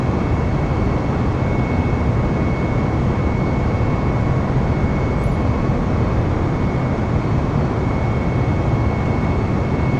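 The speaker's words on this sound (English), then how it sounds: "Taking off, lift up. We are at liftoff. Airbus 320" An Airbus A320 taking off in Microsoft Flight Simulator, heard as a loud, steady, even roar of engine and rushing air that holds unchanged throughout, with a faint whine on top.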